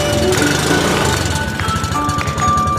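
An Ape City auto rickshaw engine runs just after starting following full engine work, producing a loud, close, rapid rattling putter that stays steady and continuous throughout.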